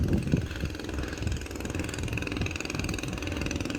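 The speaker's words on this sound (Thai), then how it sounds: "มีเรือประมงชายฝั่งกลับจากหาปลาครับ" A coastal fishing boat's engine chugs steadily as it returns to the Bana wooden pier in Pattani, Thailand. The knocking, mid-pitched putter is near and constant.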